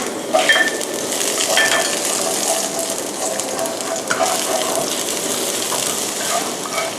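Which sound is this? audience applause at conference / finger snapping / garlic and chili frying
garlic and chili frying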